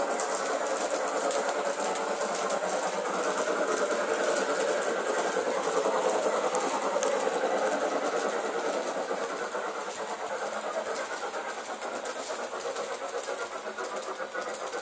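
Bachmann Lilly Belle replica mogul steam locomotive running steadily on a shake-down run, a continuous dense chuffing and mechanical clatter heard close and fairly loud throughout, with no talking.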